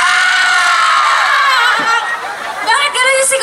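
Screaming and cheering crowd at a live JaDine fan show in Pampanga, a loud sustained wall of high-pitched shrieks and chatter that dips briefly before surging again.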